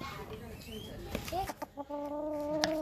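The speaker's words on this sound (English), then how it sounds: "Coco the rooster" Coco the rooster clucks in short, soft calls at close range on a ranch, with quiet background sounds and a few brief thumps around him.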